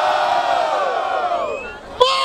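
A crowd at a rap battle event in Barueri, São Paulo, roars with sustained cheers and shouts, loud and continuous before dipping briefly and then surging again in a fresh burst of noise.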